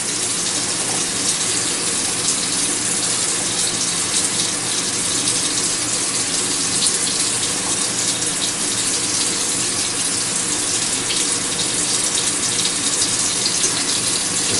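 Tap water gushes steadily into a bowl during bread preparation, a loud, continuous splashing rush that holds level from start to finish with no voices.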